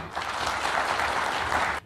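Applause for the organizer of an instrument handover to earthquake-affected musicians, a dense, steady burst of crowd clapping that cuts off sharply near the end.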